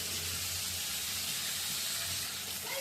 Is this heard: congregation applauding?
no